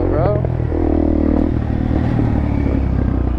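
A DRZ dirt bike idling and revving as it is ridden, a loud steady engine drone close by with some clatter, while people talk over it.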